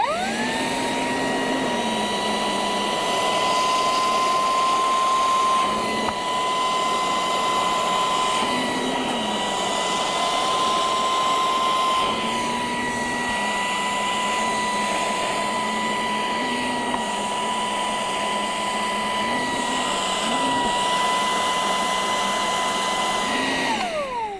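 Cordless Ryobi spot vacuum cleaning a carpet: a loud, steady motor whine with a high pitched tone, dipping and rising briefly as the nozzle is worked over the pile, running close throughout with no talk.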